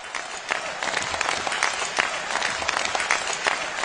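Audience applause at a lecture, a dense steady wash of many hands clapping at even loudness throughout, with no break or talking.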